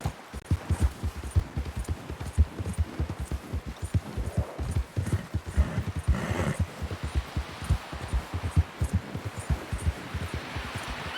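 A horse gallops in the video game Red Dead Redemption 2, its hooves drumming in a fast, steady rhythm for the whole stretch, up close with a faint outdoor backdrop and no talking.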